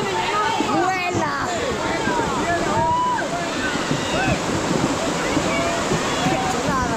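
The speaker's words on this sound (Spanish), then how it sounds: "Mira dónde cómo viene el mar." A rising river flood surges and roars steadily like crashing sea surf, a dense continuous rush of water with wind noise, while voices shout excitedly over it throughout.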